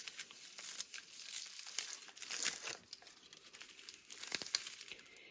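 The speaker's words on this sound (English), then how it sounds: "Next, we're gonna cut up this onion." A sweet onion is cut up during kitchen meal prep, giving close, soft crinkly crunches of papery skin and knife work with uneven rhythm and no talk.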